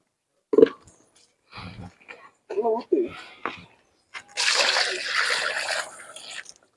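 A few short bursts of voices, then water splashes and pours noisily for about two seconds close by as water is set out for a cow.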